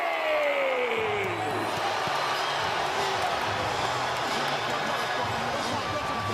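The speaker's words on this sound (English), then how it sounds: "This sold-out crowd is on fire. It is buzzing in here." A sold-out boxing arena crowd in Las Vegas roars and buzzes at a championship fight, a dense, sustained wash of cheering under an announcer's voice, with occasional sharper peaks rising from the broad noise.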